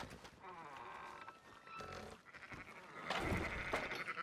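Sheep in the video game Red Dead Redemption 2 let out several wavering bleats in quick succession, fairly quiet and close, the last ones rising louder.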